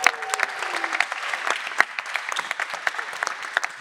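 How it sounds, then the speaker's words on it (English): Audience at a youth Q&A session gives a round of applause, a lively burst of many hands clapping close by with sharp individual claps standing out, no talking over it. "Yeah, give them a big round of applause."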